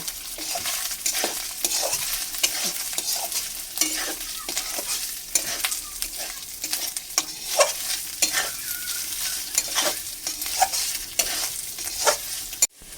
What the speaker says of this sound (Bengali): এখন আমি মুসুরের ডালটা দিয়ে দেবো এর মধ্যে এবার আমি নাড়াচাড়া করব